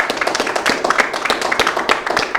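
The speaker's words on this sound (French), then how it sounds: "que je vous prie d'applaudir à nouveau, s'il vous plaît" An audience applauds a singer at a birthday show, steady dense hand claps with sharp individual slaps, close and sustained throughout without talk.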